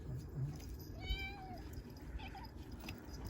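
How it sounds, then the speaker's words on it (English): A small kitten meows indoors, one clear rising-and-falling cry followed by a shorter, fainter mew, over quiet room noise with some light rustling. "Here's our little kitten, Sassy, who is a menace to this household."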